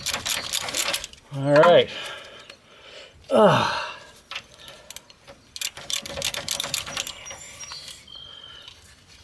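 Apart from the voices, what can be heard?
Pitman arm tool removing drag link on Nissan Frontier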